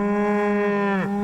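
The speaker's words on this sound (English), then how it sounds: "Idaho is home to more cattle than there are people." A single long, loud moo from cattle on an Idaho ranch, steady and close, ending with a falling pitch.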